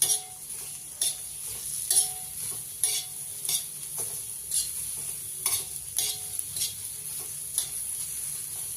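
Onion roasting in a spoonful of oil for a Maharashtrian dubuk vadi curry, with a soft steady sizzle under repeated rhythmic stirring scrapes and taps of a spoon on the pan, close.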